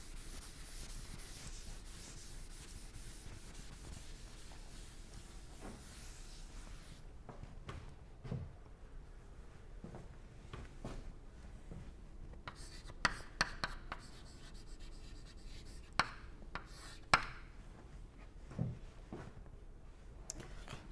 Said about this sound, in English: let me write somewhere here, maybe I will utilize this same space